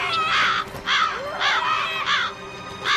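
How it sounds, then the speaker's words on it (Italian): Crows cawing as a cartoon sound effect, five harsh caws spaced at a steady rhythm, loud and close with no talk over them. "Ragazzi, avete notato quegli uccelli?"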